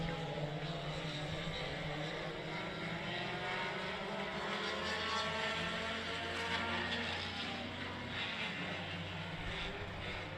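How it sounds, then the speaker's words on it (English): Race cars at a dirt-track speedway heat race accelerating together off the green flag, a dense steady engine roar heard from a distance for the whole stretch. "Green flag, green light. We're off and running, picking up speed."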